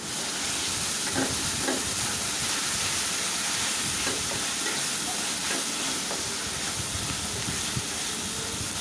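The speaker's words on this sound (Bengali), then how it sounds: "তো পেঁয়াজটা আমি ভালো করে ভেজে নেব। আর দিয়ে দিলাম বাটা রসুন আর কাঁচামরিচ কুচি" Chopped onion frying with ground garlic and chopped green chili for tomato bharta, a steady broadband sizzle and hiss throughout with faint stirring scrapes, no voices.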